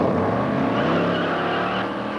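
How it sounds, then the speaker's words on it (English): A car speeds off from a traffic stop, its engine roaring loudly and close, with revving harmonics that climb in pitch as it accelerates away. "He sped off from the traffic stop."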